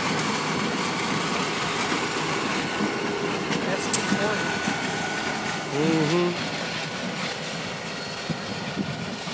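EMD diesel locomotives moving around a rail yard give off a steady, rumbling engine drone with clanks and a brief tonal whine, heard at a distance under people talking.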